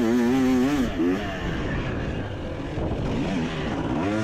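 A 2023 Husqvarna TC250 two-stroke dirt bike with throttle-body injection at High Desert MX screams with a high, wavering engine note as it rails into a turn, then drops into a rough, steady roar.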